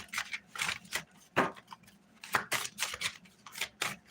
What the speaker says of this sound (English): Shuffling for Leo.